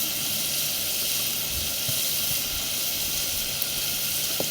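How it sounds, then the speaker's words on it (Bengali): Onion paste hits hot oil over browned garlic on a clay stove, giving a steady, close, broadband sizzle and hiss that holds evenly throughout with no talking. "রসুনটা লাল হইয়া তারপরে পেঁয়াজ দেবো"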